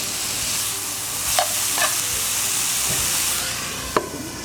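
Chow mein with fried rice and vegetable seasoning stir-fries in a pan, giving a steady loud sizzle and hiss with a few scraping stirs, Trinidad restaurant-style cooking with no talking.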